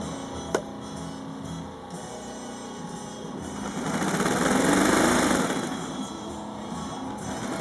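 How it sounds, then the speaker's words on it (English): Tape edge sewing machine stitching the upholstered edge of a DreamX mattress: a steady mechanical whir that swells louder in the middle and then eases back, with one sharp click near the start. "It requires our tape edge machine, which is putting it on right now."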